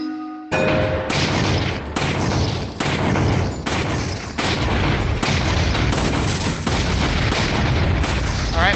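Gunshots fired during shooting practice in the Resident Evil 4 VR video game: loud, evenly spaced single shots, roughly one every half second to second, each with a short echoing tail, continuing steadily after a brief quiet start.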